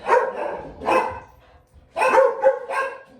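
A dog barks in several loud, close bursts: two separate barks, a pause, then a quick cluster of three.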